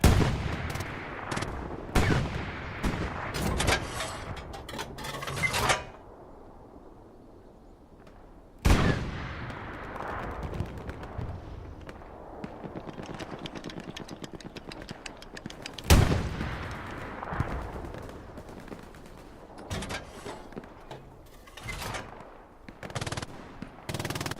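An anti-tank gun and small-arms fire in the Hell Let Loose video game, loud repeated gunshots and bursts of machine-gun fire with heavy booming blasts, breaking off into short quiet gaps before resuming.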